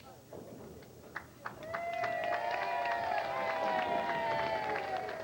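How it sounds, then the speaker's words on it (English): Crowd at a bowling event breaking into applause and murmuring, a steady swelling wash of clapping after a couple of sharp knocks, with voices mixed in. "Big applause for somebody who just goes down and removes pins"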